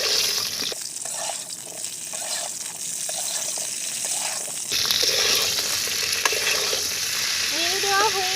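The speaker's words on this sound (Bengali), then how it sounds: "এখন আমি একে একে বড় সাইজের ফুলকপিগুলো এর মধ্যে দিয়ে দিচ্ছি। একটু নেড়ে দিচ্ছি।" Large cauliflower florets drop one by one into hot oil and get stirred, giving a close, continuous frying hiss with soft stirring knocks that brightens and grows louder partway through.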